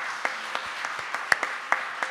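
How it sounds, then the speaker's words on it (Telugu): Scattered claps from a church congregation at a Baptist Sunday service, sparse and uneven, a few sharp hand strikes spread over two seconds rather than sustained applause, fairly faint in a reverberant hall. "నమ్మితే చప్పట్లు కొడతావా?"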